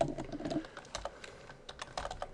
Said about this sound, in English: you really can just go in here and type in CNAME